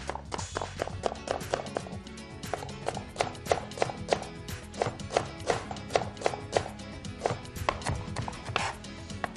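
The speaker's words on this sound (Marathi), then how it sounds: "कांदा आपला छानपैकी चिरून झाला." Onion being finely chopped with a knife on a board for a mince dish, a brisk, steady run of sharp close taps with no talking.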